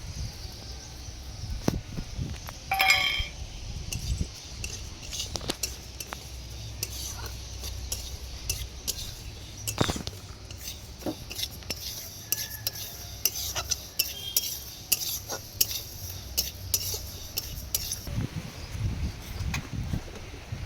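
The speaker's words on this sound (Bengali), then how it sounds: "প্রথমে আমি এই মুগের ডালটা নেড়ে নেব শুকনো কড়াই।" Dry moong dal is stirred in an empty wok over a lit stove, with scattered scraping and rustling from the spoon and grains, quiet and steady, with occasional metallic clinks and no talking.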